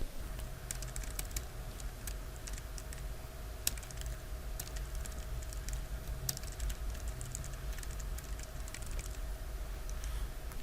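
Rapid, irregular clicking of keys on a computer keyboard while text is typed into a word-processor document, close and fairly quiet, with occasional louder keystrokes over a low steady hum.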